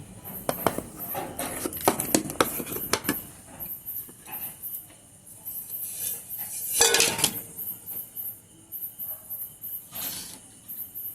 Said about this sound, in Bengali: এবার আমি একটা ছুরি দিয়ে ধারগুলোকে একটু ছাড়িয়ে দেব।